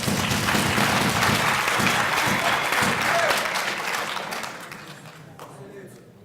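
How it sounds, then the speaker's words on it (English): A debate audience at UKZN Westville gives a full round of applause that holds steady and loud, then tapers off over the last couple of seconds into near quiet. "can you wave and they give you a round of applause?"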